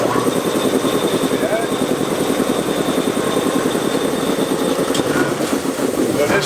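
A dual-engine air compressor in a machine shop drones steadily with a dense, throbbing motor rumble as the second motor kicks in, loud and continuous throughout, with talk over it.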